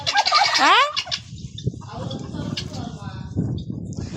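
A turkey gobbles loudly and close by, a quick warbling burst, followed by softer rustling and background noise.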